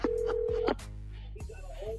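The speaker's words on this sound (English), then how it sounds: "right now Steve is in to give us today's prank phone call" Telephone dialing before a prank phone call: a sustained electronic tone at the start, then quieter clicks and line noise that follow.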